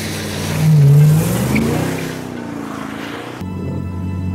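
The possessed 1958 Plymouth Fury named Christine from the 1983 film Christine, its engine swelling in a loud rev that peaks and then settles into a steady rumble, with no talk over it.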